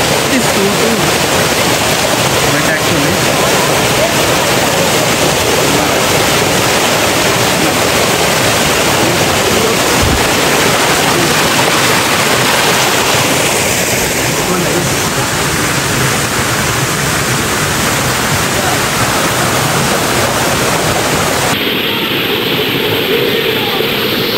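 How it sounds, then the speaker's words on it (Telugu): The Salvapet waterfall at Udayagiri rushes loudly and constantly, a dense roaring wash of falling water that barely changes throughout. "చూడండి పైన వాటర్ ఫాల్స్ అయితే చాలా బాగుంది."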